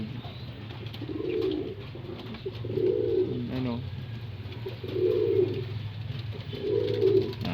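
Racing pigeons coo in four repeated rounded phrases at feeding time, close by, over a steady low background hum with someone talking intermittently.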